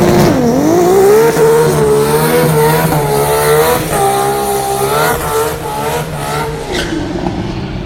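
Drag racing car of a couple of thousand horsepower on 275 drag radials at Sydney Dragway, its engine screaming loud and close as it accelerates down the strip, pitch climbing through rapid gear changes.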